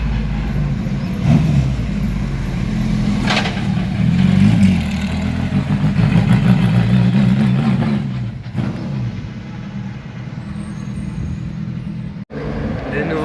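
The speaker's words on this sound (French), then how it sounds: "Et de nouveau une Ferrari," A Ferrari 308 GTB race car engine hums steadily on a circuit, holding a mid-pitched drone that swells and fades as it passes. Speech is heard in the background.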